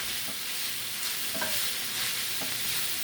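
Cabbage and kielbasa frying on a griddle in Lodge enameled cast iron, a steady close sizzle with occasional scrape-and-stir sounds from a utensil, no talking.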